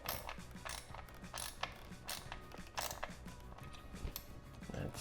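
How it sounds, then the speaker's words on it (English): A 10mm ratchet tightening a bolt on a Honda CB200T motorcycle, quick repeated clicking strokes in uneven bursts, close and fairly quiet. "just gonna go ahead and hold it here with my 10mm, and I'm gonna tighten up the other side"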